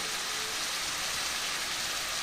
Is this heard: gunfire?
no